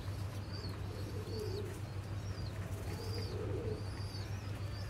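Sheikh breed pigeons coo softly in a low, rolling murmur, a few repeated calls over a steady background hum, with faint chirps from other birds nearby.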